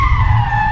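Tires skidding as a car drifts around a curve, a loud sustained squeal with steady tonal bands over engine rumble, alone without talk.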